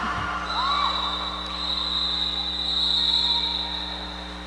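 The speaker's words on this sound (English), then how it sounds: "Hearing lots of whistles." A referee's whistle at a roller derby game gives a long, steady, shrill tone lasting several seconds, heard over a low arena hum and crowd noise.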